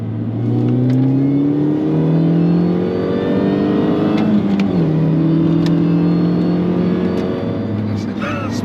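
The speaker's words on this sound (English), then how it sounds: "let's do a little motorway pull, see what she feels like" A Mini Cooper S R53 with two occupants accelerates hard in second gear from about 30 mph on a motorway, its engine note climbing steadily and loud from inside the cabin, with a brief dip at a shift midway.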